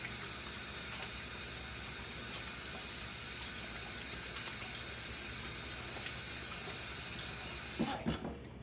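Tap water running steadily into a kitchen sink for handwashing while preserving cucumbers, an even hiss of flowing water, faint and unbroken, with a brief splash and clatter near the end.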